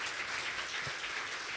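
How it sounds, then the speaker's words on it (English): Audience applause at a lifetime achievement award ceremony, a steady, moderately loud wash of clapping filling the brief moment without any speech over it. "I think she deserves a huge round of applause."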